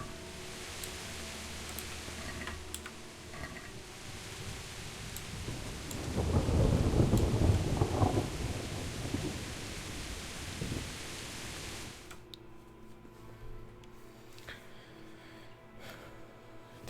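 Video game rain hisses steadily while a deep rumble of thunder swells and rolls for several seconds before the storm noise drops away to a quieter ambience.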